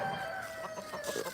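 Farmyard chickens cluck and call continuously at moderate volume, with several overlapping birds and a steady background murmur.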